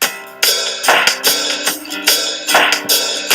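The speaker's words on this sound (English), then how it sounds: "you can hear that this trip hop drum loop should work fine for the song" Trip hop drum loop playing back for a song edit, a laid-back pattern of punchy hits with bright noisy cymbal wash, loud and close, repeating steadily with no voice over it.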